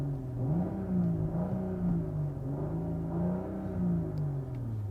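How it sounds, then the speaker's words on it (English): The 2023 BMW M340i engine with artificial sound enhancement through the speakers gives a low, steady hum at idle that rises and falls in gentle swells of revving, heard from inside the cabin. "You can turn that on and you get sort of artificial sound enhancement through the speakers."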